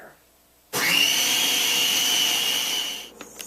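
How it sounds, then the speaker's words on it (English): A food processor whirs loudly and steadily for about two seconds while blending wet ingredients and beans into low-glycemic brownie batter, starting abruptly after near silence and winding down at the end. "put that in the food processor with the wet ingredients. And when we start to mix this up"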